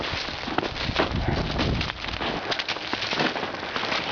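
Steady rain pours down on a rainy day outdoors, a dense continuous patter on surfaces, loud and close, with no talk.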